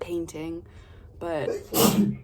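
A single sharp sneeze near the end, loud and close, after a few spoken words.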